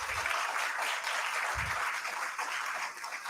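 An audience at a valedictory and certificate distribution ceremony applauds steadily, a dense continuous wash of clapping from many hands that holds at an even level throughout.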